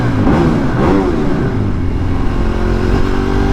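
Ducati 848 motorcycle revving, a loud close-up engine note that climbs and holds in a steady throaty drone for a few seconds.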